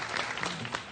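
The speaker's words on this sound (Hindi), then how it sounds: "इनके लिए तालियां बजाने एक दफा सही है भाई।" Studio audience applause on a PSL cricket talk show, a faint short burst of clapping with a few sharper claps standing out, quiet and unaccompanied by speech.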